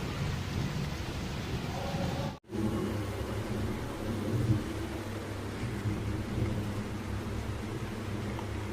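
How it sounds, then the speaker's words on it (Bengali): Steady rain falling under an overcast sky with low rumbling thunder, a continuous close hiss and patter broken briefly by a short cut before resuming evenly. "আকাশটা খুব মেঘলা আর ঝিমঝিম করে বৃষ্টি হচ্ছে"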